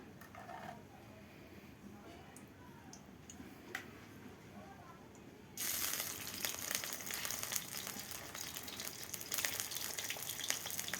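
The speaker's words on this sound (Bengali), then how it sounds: "এবার আমি চিকেনটা বসাবো সর্ষের তেল দিলাম" Chicken pieces dropping into hot mustard oil, setting off a sudden loud, steady sizzle that starts midway after a quieter stretch and keeps crackling to the end.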